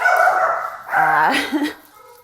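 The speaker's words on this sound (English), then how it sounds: "Family dogs." Family dogs barking indoors, a couple of close, loud barks and yips with a whimpering tone, heard alone.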